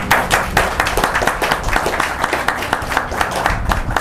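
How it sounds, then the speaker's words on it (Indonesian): An audience at an Indonesian talk on Javanese conduct gives a round of applause for a training-institute presenter. Sharp, uneven clapping bursts from a modest crowd sound close and fairly loud, with no talk over them. "Kita beri tepuk tangan untuk Mbak Emma."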